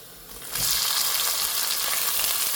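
Spicy Gujarati-style prawn masala frying as dried onion goes into the pan: a quieter sizzle swells abruptly into a loud, steady, hissing crackle that holds close and continuous, with no talking.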